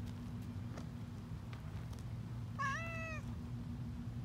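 A black cat meows once on a hot summer day in a garden, a clear rising then falling call heard close and alone over faint outdoor background noise.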